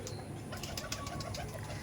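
Pigeons in a home loft coo softly and repeatedly against a steady background hum, the calls faint and somewhat distant.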